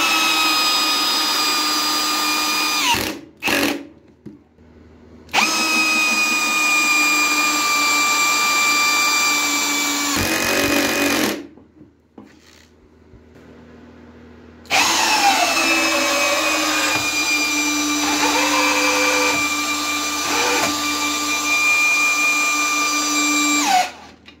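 Parkside PSBSAP 20 Li A1 cordless hammer drill in first gear with maximum clutch setting, driving 8 mm screws: three loud sustained motor runs with brief pauses between, pitch dropping as each screw seats.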